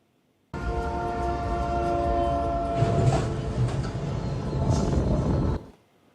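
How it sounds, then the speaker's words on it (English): A train blasts its horn as it rolls through a road crossing in Melbourne, Florida, then rumbles and clatters loudly with a heavy crash-like burst midway, before the sound cuts off abruptly. "a train slams right into the back of a semi-truck"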